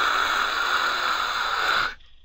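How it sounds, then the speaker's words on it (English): Broadband white noise static, a steady hiss spanning the whole range at once, loud and even, playing alone for about two seconds before cutting off abruptly into near silence. "it would be static. It would be white noise."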